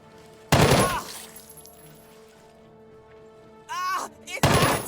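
Video game gunfire comes as sharp, loud bursts of shots with ringing tails, separated by a quiet stretch and followed by another volley, with no talk.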